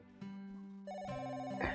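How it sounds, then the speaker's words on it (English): A telephone rings inside the visual novel game Sakura Swim Club, a steady electronic bell tone repeating in close, clear bursts with no talking over it. "I can hear the phone ringing."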